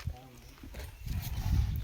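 A voice imitates a horse's clip-clop with quick clicking tongue sounds, close and fairly loud, followed by rumbling outdoor noise at a waterfall park.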